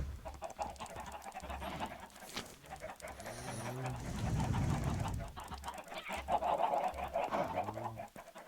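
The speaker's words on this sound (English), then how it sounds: "Chickens sound happy." Chickens clucking in vanilla hardcore Minecraft, a scattering of short, bubbly clucks near and clear over low background game noise.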